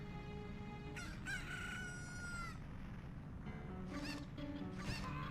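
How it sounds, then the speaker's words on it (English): A rooster crows in the video game Hero of Law, giving several drawn-out cock-a-doodle-doo calls with clucking between them, heard clearly over a steady background hum. "Chicken!"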